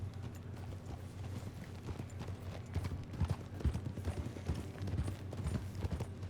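Hooves clip-clop in a steady rhythm as a horse is ridden in Red Dead Redemption 2, close and moderately loud, with faint creaking tack behind the beat.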